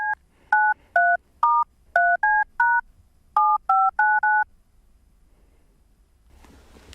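A cell phone number is dialed with a brisk run of about eleven clean DTMF keypad tones in uneven rhythm, then near silence with a faint hiss creeping in at the end.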